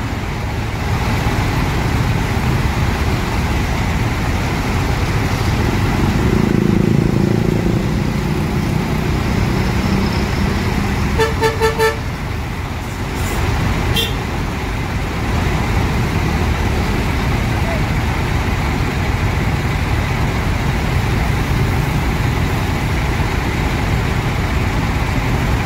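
A premium tourist bus of the Sempati Star line pulls away amid roadway traffic, its loud steady engine rumble filling the scene with a brief run of beeps midway and voices talking in the background.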